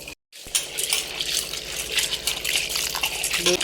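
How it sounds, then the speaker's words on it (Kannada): Toor dal, pigeon pea lentils, is swished and rinsed in warm water, a close, continuous sloshing and gushing with small clinks. "ತೊಗರಿಬೇಳೆನ ನಾನು ಸ್ವಲ್ಪ ತೊಳ್ಕೊತೀನಿ"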